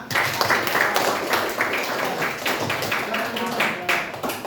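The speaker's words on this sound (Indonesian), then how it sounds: "Beri aplaus untuk kelompok 1 nak." Classroom applause for a student group: several pupils clapping and tapping irregularly at close range for a few seconds, with some voices mixed in.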